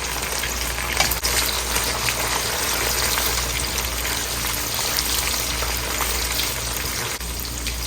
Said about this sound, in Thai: ส่วนของเนื้อนี่เราจะทอดไม่นานนะคะ แป๊บเดียวก็กรอบแล้วค่ะ